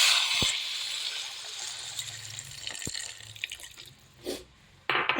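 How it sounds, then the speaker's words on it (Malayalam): Tamarind water is poured into a pot of sambar, giving a steady close liquid splash and trickle with a few sharp drips and clinks. Nobody speaks. "അപ്പം നമുക്കിനി പുളിവെള്ളം ഒഴിച്ച് കൊടുക്കാവേ"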